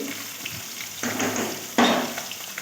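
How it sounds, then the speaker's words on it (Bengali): Bitter gourd frying in hot oil: a continuous sizzle that surges louder twice as pieces are stirred, with faint utensil clinks, close up and without speech. "একটু লাল লাল করে ভেজে নিলে উচ্ছেটা আগে খুব ভালো হয়"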